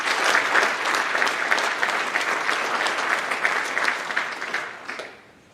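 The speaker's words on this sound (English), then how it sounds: "our faculty and staff would deserve a warm round of applause" A school awards audience gives warm applause for faculty and staff, dense steady clapping from a crowd that fades out over the final second.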